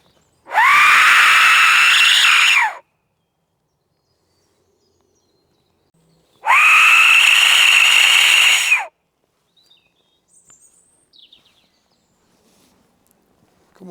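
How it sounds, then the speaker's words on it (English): A death whistle is blown twice during a night-time paranormal search in a forest, each a loud, shrill, scream-like wail lasting about two seconds, separated by silence, followed by faint scattered small noises. "Just going to blow the death whistle again."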